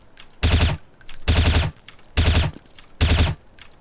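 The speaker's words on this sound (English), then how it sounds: "The way I would do it is by tap firing or bursting" Gunfire from Counter-Strike, fired as four short, evenly spaced bursts of rapid shots with brief pauses between them, loud and close with no talking.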